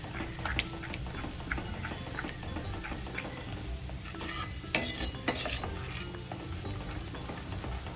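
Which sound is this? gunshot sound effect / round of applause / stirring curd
stirring curd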